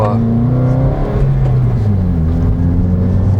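A Subaru car engine blips and revs loudly during a rev-matched downshift as the pitch rises and drops in quick steps, close and sustained, with a voice faintly underneath.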